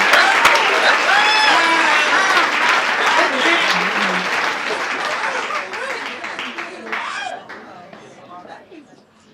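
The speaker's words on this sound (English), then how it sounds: "One more round of applause for everybody on this list." An audience applauds at a trans stories event in Texas, a dense burst of clapping with cheers and whoops that gradually thins and fades toward the end, with voices mixed in.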